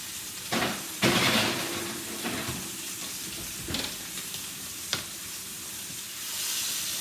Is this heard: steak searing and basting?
yes